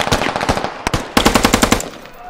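Rifle fire in the video game Squad, from a weapon with recoil between a G3 and an M4: loud rapid bursts of shots, one short stuttering volley, a single crack, then a longer rhythmic burst.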